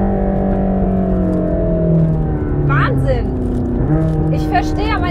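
Mercedes-AMG GT Black Series heard from the cabin on track, a loud sustained engine drone with shifting pitch and a gear change, with people shouting over the noise.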